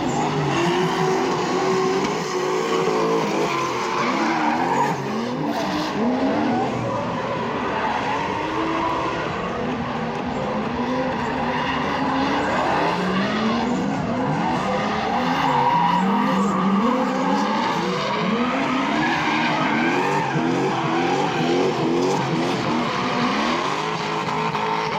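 Drift cars slide through a battle at a Bulgarian drift championship, with continuous loud tire squeal and engine roar filling the whole stretch, close and unbroken.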